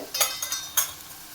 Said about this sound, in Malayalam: ഇതൊക്കെ നമുക്ക് ഇളക്കി മിക്സ് ചെയ്യാം